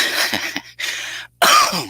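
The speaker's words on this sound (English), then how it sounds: "Excuse me for coughing into the mic." A few loud, harsh coughs right up against the microphone, rough and breathy, with a brief silent gap between them.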